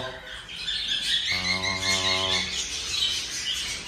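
Pet birds in flight cages, busy high chirping and tweeting close by throughout, with a brief low droning tone in the middle.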